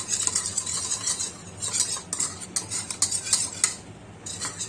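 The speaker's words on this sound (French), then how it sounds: "On prend un peu d'eau froide. Environ une cuillerée à soupe. Et on touille." A spoon stirs apple and pear peel jelly with a spoonful of cold water in a pot, giving steady close scraping and clinking against the sides in quick irregular strokes.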